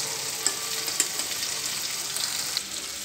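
A spoonful of ghee sizzles in a hot pan while a tarka is cooked with chopped onion, chilli and ginger. The frying hiss is steady and close, with small pops and spatters throughout.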